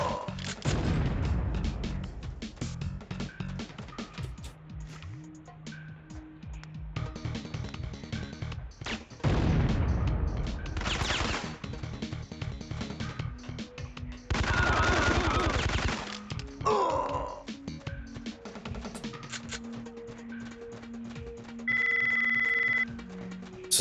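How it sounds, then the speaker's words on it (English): Rapid gunfire from the Biz-2 in the Syphon Filter video game crackles in dense bursts, mixed with crashes and other game effects and set against steady background music, with no talk. "I'm just gonna spam with the Biz 2 because it has a lot of power in this game and a high fire rate"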